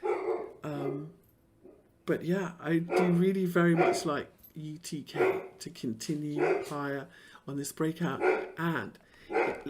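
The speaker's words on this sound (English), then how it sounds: "sorry about my dog, 1 second." A dog barks and yips several times indoors, short sharp sounds mixed with someone speaking steadily over them.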